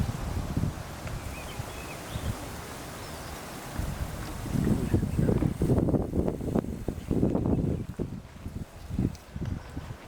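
Wind blowing outdoors in Galilee, a steady rushing roar with heavy gusts buffeting the microphone in the second half, loud and close.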